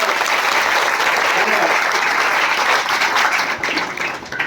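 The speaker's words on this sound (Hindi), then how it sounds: "पूरी महावीर कोचिंग संस्थान और ऐसे डिसिप्लिन छात्रों के लिए एक बार बहुत तालियां" An audience at Mahavir coaching institute applauds teachers and disciplined students after a jail superintendent's motivational speech, dense loud clapping sustained for the whole stretch, thinning slightly near the end.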